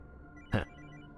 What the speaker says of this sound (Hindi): भाई विजय कुमार को फोन लगा। लगाता हूँ, चल जल्दी लगा।